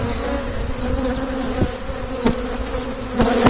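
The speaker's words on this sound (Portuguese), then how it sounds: "Também há aqui zangões, estamos a ver, muitos, bastantes," Honeybees and drones swarm around an opened beehive, a dense, close buzzing drone with a few louder wingbeat passes as individual insects fly near; no talking.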